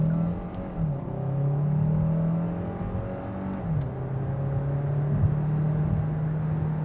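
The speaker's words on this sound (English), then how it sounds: "And floor it and merge onto the highway." A 2025 Hyundai Santa Fe Hybrid Calligraphy accelerating hard in sport mode onto a highway: a close, droning engine note climbs steadily, drops once at a shift, then settles into a sustained, rising pull, with no voices.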